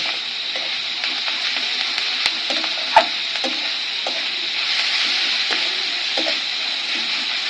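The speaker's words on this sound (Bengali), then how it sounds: "আবার ভালোভাবে মিশিয়ে নেব তাতে সব সবজির সাথে নুনটা মিশে যায়।" Vegetables and salt for street-style chicken chowmein stir-fry in a hot pan with a steady, loud sizzle and scattered clicks and scrapes of stirring.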